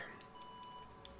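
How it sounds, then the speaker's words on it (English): A short electronic beep from the Resident Evil video game, a few faint high-pitched bleeps over a quiet hum, heard alone. "Oh, that was an excited beep."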